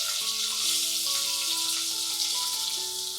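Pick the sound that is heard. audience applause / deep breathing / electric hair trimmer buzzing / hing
hing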